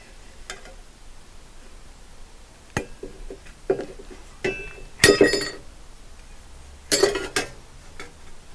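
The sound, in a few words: tin snips cutting metal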